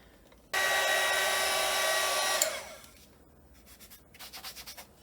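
A hair dryer blows steadily and loudly to dry wet acrylic paint pen ink, running for about two seconds before cutting off, followed by faint rubbing and scratching sounds.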